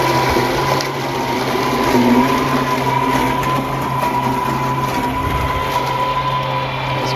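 A steady mechanical whir with a coarse grinding texture runs continuously as a Lymow One robotic lawn mower shreds dense, tall grass, fairly close.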